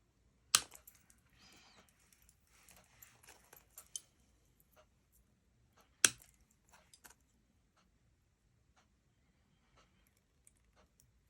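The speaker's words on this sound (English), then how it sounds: "I think I'm going to cut the stems off these." Sharp scissor snips cutting plant stems for a button-and-nature protection charm, two crisp cuts standing out among soft rustling and small handling clicks in a quiet room.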